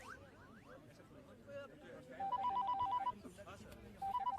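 A telephone bell rings in short repeated bursts among background voices and room noise.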